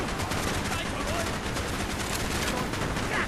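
Sustained machine gun fire in Call of Duty: Black Ops, a dense, continuous rattle of rapid shots filling the whole stretch at a steady, moderate level without pause.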